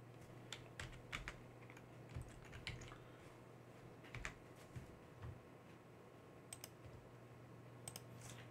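Keys tapped on a computer keyboard to enter a Linux command, a sparse irregular run of light close clicks and taps over a quiet room hum.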